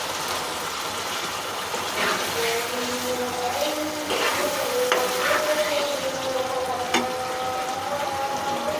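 Meat pieces sizzle and fry in biryani masala while being stirred, a constant crackling hiss with scraping strokes of a spatula against the pan, close and steady.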